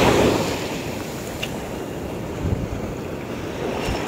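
Cold wind blowing steadily at the seashore of Cemagi beach, a constant loud roar of gusts and microphone buffeting mixed with the wash of surf, with no voices.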